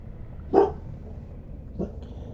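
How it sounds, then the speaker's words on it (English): Puppies in the background let out two short barks or yips about a second apart. They are fairly faint over a low, steady room hum, with no one talking. "Sorry for the noise in the background, I got puppies."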